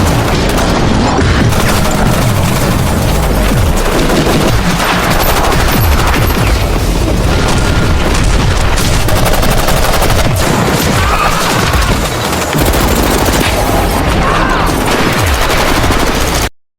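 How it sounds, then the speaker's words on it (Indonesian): A film gunfight between ex-special forces and corrupt police, with dense, loud bursts of gunfire and booming blasts overlapping nonstop in a chaotic barrage until it cuts off abruptly at the end. "polisi korup yang merupakan anak buah Helen, sehingga aksi baku tembak pun terjadi."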